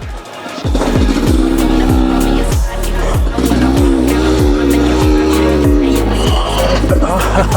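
A 2024 Husqvarna TE250 TBI two-stroke dirt bike being ridden, its engine loud and close with a rapid revving drone and repeated rises and drops in pitch as the rider shifts and accelerates.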